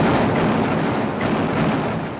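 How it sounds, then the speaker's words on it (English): A shell from the cruiser Norfolk explodes against the German battleship Scharnhorst in a World War II naval battle, giving a loud, continuous rumbling blast roar that fills the whole span without any break or talking. "his ship is rocked by an explosion as one of Norfolk's shells knocks out her forward radar."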